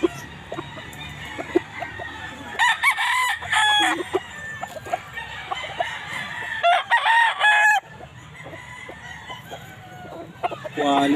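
Roosters crow several times, loud and close, with clucking fowl and farmyard noise filling the gaps, at a pet market in San Jose del Monte, Bulacan.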